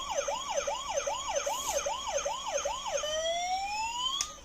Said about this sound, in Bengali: সো দেখতে পারলে এটা কিন্তু একটি মিউজিক অ্যাম্বুলেন্স